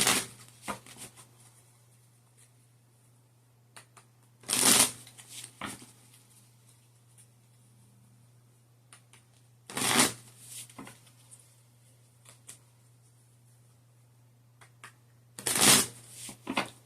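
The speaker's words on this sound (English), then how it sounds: "I'm going to shuffle 8 times." Tarot cards are shuffled in three short, crisp riffling bursts spaced several seconds apart, close and clear against a quiet room with a faint steady hum.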